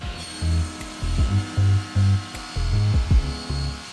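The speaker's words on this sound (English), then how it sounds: "First, I set up table saw to 1 1/4 inch and cut 4 strips 12 inch long." Table saw cutting wood strips 1 1/4 inch wide and 12 inches long: a loud, close, whining rasp that comes in repeated short bursts as the blade bites and eases, with no talk.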